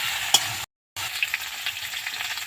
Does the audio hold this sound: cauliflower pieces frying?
yes